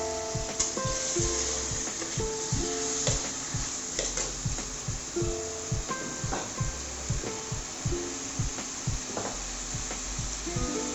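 Two tomatoes fried and stirred into an egg masala, giving a steady, close sizzle with repeated scraping and clinking strokes of a spoon in the pan, carrying on alone throughout.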